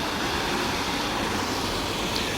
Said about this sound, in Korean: 옆에 계곡 흐르는 물소리가 진짜 좋은 것 같아요